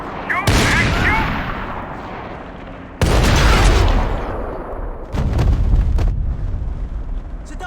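Loud bursts of in-game gunfire from Max Payne 3, three heavy volleys with sharp onsets and booming decays, with shouting voices mixed in.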